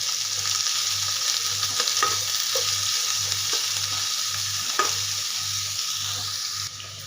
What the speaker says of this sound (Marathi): मोठ्या आकाराचा बारीक एक कांदा कट करून घेतलेला आहे, तो पण आता कच्चेपणा जाईपर्यंत परतून घेऊया